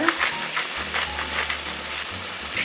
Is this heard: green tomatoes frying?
yes